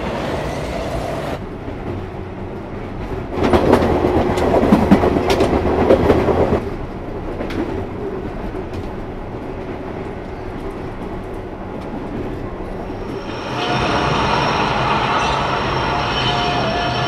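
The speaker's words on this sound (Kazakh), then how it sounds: "Такасакиге жүретін Асикага Мазбаси бағытының пойызы 8-ші жолға келіп тоқтайды." A train arrives at a snowy Japanese station platform on track 8, rumbling and clacking as it rolls in, with swelling wheel noise and faint squeal as it slows.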